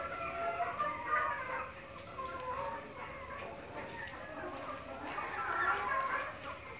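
Caged chickens in a Vietnamese farm setting cluck and chatter continuously at moderate distance while a person talks nearby.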